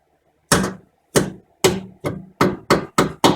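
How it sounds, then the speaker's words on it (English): Eight sharp metallic hammer strikes on a 2005 Pontiac GTO brake part, close and loud, with ringing tails, coming faster toward the end after a brief silent start. "I'm going to try a hammer, but it's probably going to fly out of there after the first hit"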